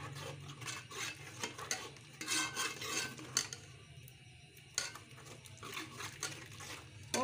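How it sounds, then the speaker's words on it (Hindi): Salt, turmeric and chilli sizzling and being stirred in a pan over raised heat for a mutton curry, with steady frying hiss and repeated scraping of a utensil against the pot, close and continuous, no talk. "जो नमक और हल्दी मिर्च डाली है इसको भून लेना।"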